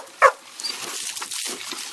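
A single sharp dog bark near the start, then quieter rustling and background noise.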